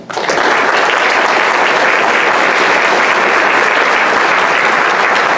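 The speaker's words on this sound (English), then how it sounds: "So let's give them a round of applause." Sustained, loud round of applause from an audience at an Honor Flight veterans' recognition event, dense steady clapping that starts abruptly and fills the whole stretch with no voices on top.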